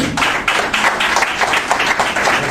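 Loud applause from an audience welcoming an honoured guest at a gathering, dense rhythmic clapping that swells in regular pulses and continues without pause.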